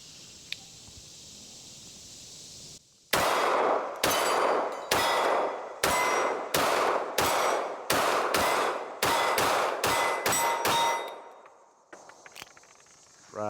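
A S&W Bodyguard 2.0 Carry Comp pistol fires thirteen rapid shots in quick succession, each a sharp, loud crack with a short ring, speeding up toward the end, then a quiet metallic click.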